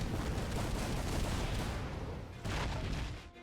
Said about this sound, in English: the battle sound effects are also pretty good with some nice meaty cannon booms